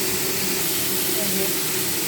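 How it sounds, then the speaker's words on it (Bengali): Cauliflower and potatoes frying in a pan, with chillies added for a lunch dish, give a steady broadband hiss that is moderately loud and continuous throughout, without obvious stirring clatter. "কপি আলু সব ভাজছি"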